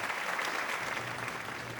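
Applause from an audience at an awards and recognition session, a steady, dense wash of clapping that stays level throughout, with no voices over it.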